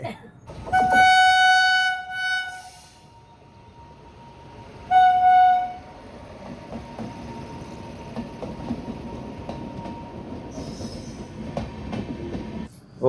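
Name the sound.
train passing railway crossing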